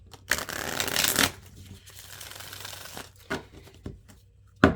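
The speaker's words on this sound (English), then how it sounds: "I'm going to go ahead and give them a good shuffle." A deck of tarot cards is shuffled by hand, a dense riffling rush followed by lighter scattered flicks and taps, close and clear with no talking.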